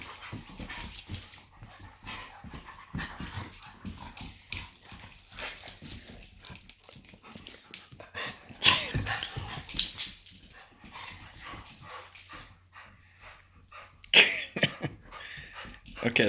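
Several excited dogs whimper and yip in short, irregular bursts close by, mixed with snuffling and occasional coughing sounds, while a person talks to them.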